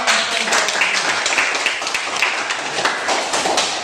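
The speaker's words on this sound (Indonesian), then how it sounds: "Oke, tepuk tangan." Classroom of students clapping for a student group, a steady dense wash of applause sustained throughout, loud and close.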